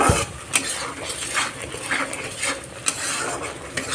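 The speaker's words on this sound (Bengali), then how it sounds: "মশলাটাকে ভালো করে কষে নেব যতক্ষণ না মশলার থেকে তেল ছিঁড়ে দিচ্ছে" Thick spice paste for a raw green-pea ghugni being sautéed in a pan, with a utensil scraping and clinking against the metal in irregular strokes over a low, steady sizzle; no talking.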